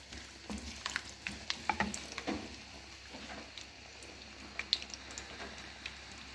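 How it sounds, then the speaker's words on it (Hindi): Soft sizzling and crackling of finely chopped garlic frying in hot oil, with scattered pops and light stirring clicks, fairly quiet and close. "इसमें मैं 10 क्लोव्स बारीक कटे हुए लहसुन के डाल दूँगी और इसको थोड़ा सा हम करेंगे फ्राई।"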